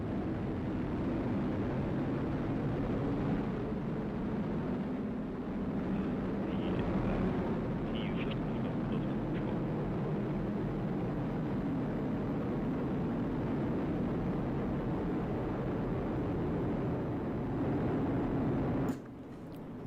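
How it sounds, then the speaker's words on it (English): An Atlas V rocket ignites and lifts off carrying a satellite for the United States Space Force, a continuous broadband roar heard from a distance that stays steady for about twenty seconds before dropping off abruptly at the end. "We have ignition and liftoff of the Atlas V rocket for United Launch Alliance"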